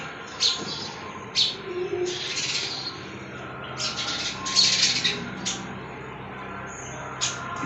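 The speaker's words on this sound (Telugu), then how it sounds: "అది ఇలా పక్షులు వచ్చి తినేసి వెళ్ళిపోతాయి" Birds chirp in repeated short bursts over a quiet outdoor background, several calls spread across the clip, moderately near.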